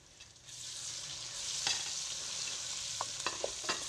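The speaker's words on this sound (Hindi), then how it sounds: "अदरक लहसुन का पेस्ट डाल के इसे भी फ्राई कर देंगे" Ginger garlic paste sizzles steadily in a hot pan, a close, even frying hiss with a few sharp clicks of stirring near the end.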